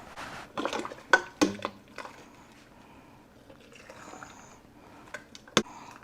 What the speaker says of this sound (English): I'm going to put 2 spoons of relish in each jar, and then I'll use my ladle